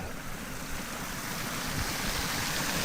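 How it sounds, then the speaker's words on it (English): Heavy runoff pours from a pond into a creek after real rain, a dense, steady rushing of water close by with no voices. "see how much water's flowing out of the pond here into the creek"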